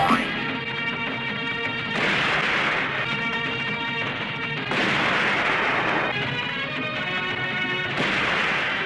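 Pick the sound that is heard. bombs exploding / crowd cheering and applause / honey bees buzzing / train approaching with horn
bombs exploding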